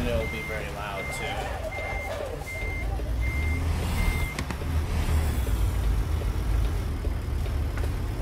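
A reversing truck's backup alarm beeps about six times at a steady pace over an idling engine rumble in American Truck Simulator, after which someone talks over the engine.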